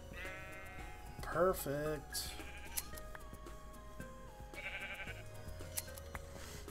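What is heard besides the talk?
sheep bleating in the video game Minecraft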